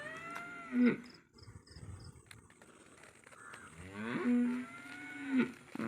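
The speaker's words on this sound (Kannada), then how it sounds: "ನಮ್ಮ ಹಸುಗಳು ಬಡ್ಕೊಳ್ತಾವೆ ಮೇವು ಹಾಕಿಲ್ಲ ಅಂತ" Cows moo loudly several times, long low bellows near the listener, with quieter rustling and background noise in between.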